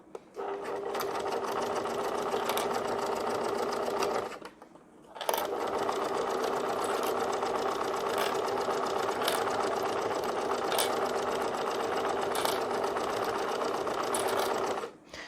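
Sewing machine running steadily while stitching a zipper onto a school pouch, a continuous close mechanical whir that pauses briefly partway through before resuming for the rest of the seam.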